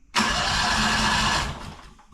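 An antique loader's engine cranks and catches abruptly, then runs loud and close for about a second and a half before dropping away to a quieter rumble.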